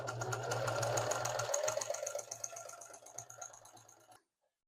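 A sewing machine stitches Miata seat upholstery with a rapid, labored hammering, slowing and thinning toward the end before it stops abruptly, close and alone.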